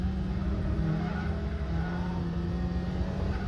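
Car engine in a racing video game, a continuous high revving drone with a steady low rumble beneath, holding at a constant loud level throughout with no pauses.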